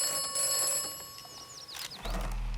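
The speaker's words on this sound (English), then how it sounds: "Oh, the phone's ringing." A high, electronic telephone ring with warbling tones in the video game Atomfall, heard close against a low background hum and ending in a sudden low tone.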